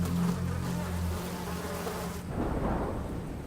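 Insects swarm and buzz over the bony remains of an animal carcass in Cambodian wilderness, a dense continuous drone alongside low rumbling noise throughout, with no speech.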